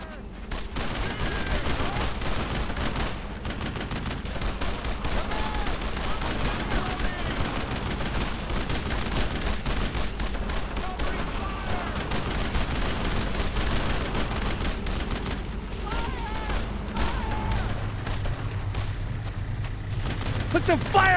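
Dense, continuous rifle and machine-gun fire in a WWII combat video game, loud and sustained with overlapping bursts, while soldiers shout over the shooting.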